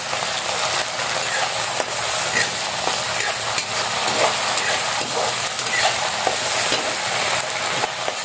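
Snails simmering in a coconut milk stew are stirred in a cooking pan, giving a steady, fairly loud bubbling sizzle with soft scraping strokes throughout.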